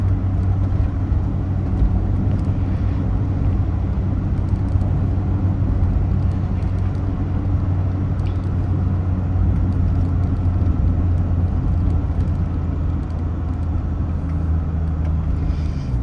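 A stock manual Acura Integra DC4 drives along. Its engine drone and road rumble are heard from inside the cabin as a steady, loud, low hum that holds evenly without clear gear changes.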